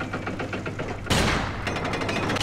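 Gunfire from a gun in the Legend of Grimrock II dungeon game: a rapid rattle of small shots, then one loud blast, with fast crackling reports continuing afterward.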